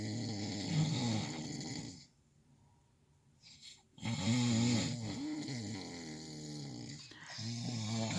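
Two men snore at night inside a truck, deep rumbling breaths close by, overlapping in a steady rhythm with a short quieter pause midway.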